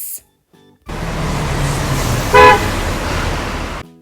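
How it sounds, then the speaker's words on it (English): A bus rumbles along a road with a steady engine and traffic wash, and its horn gives one short, loud toot midway before the sound cuts off. "A bus driver drives the bus and people get on and off at bus stops."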